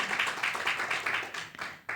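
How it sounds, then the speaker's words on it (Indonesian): A church congregation claps in a fast, even rhythm. The claps are fairly quiet and slightly distant, with no talk over them. "Beri tepuk tangan yuk buat Tuhan kita Yesus Kristus"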